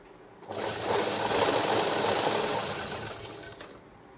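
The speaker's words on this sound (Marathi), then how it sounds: "मग आता आपण याच्यामध्ये कडेने पूर्ण पॅक करू शकतो शिलाई मारून." Sewing machine stitching saree fabric for a blouse, running as one loud, steady mechanical whir for a few seconds with a close buzzing rattle, starting and stopping cleanly.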